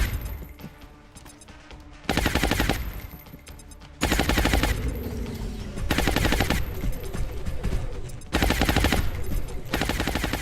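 Gunfire from the strategy video game XCOM Long War, heard as several loud, dense bursts of rapid shots separated by brief quieter gaps, with no talking over it.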